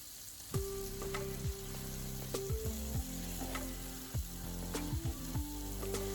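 Steaks sizzle in a pan after being flipped, a steady hiss underneath with several sharp clicks and low knocks scattered through, heard alone without talking.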